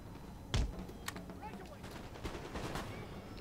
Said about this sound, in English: Open fire at will